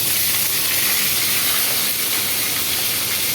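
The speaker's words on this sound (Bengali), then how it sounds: "এই দেখো আমি দিয়ে দিচ্ছি মাথাগুলো, একটা একটা করে ভালো করে ভেজে নেব, একটু কড়া করে" Hilsa fish heads fry in hot oil with a dense, continuous sizzling hiss heard close up, steady and loud throughout with no talking.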